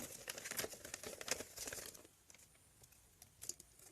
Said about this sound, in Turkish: Slime'ın kargosunu açıyorum.